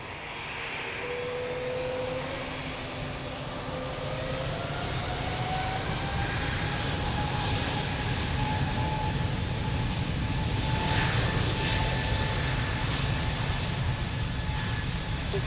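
Airliner taking off from the runway at Lisbon Airport, a loud sustained jet roar that builds steadily with rising engine whine, heard from a distance with no talking.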